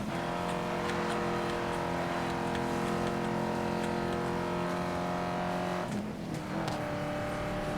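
A car engine roars steadily at high speed in the racing game Need for Speed: Most Wanted (2012). The loud, continuous drone shifts briefly near the end, as if changing gear or passing something.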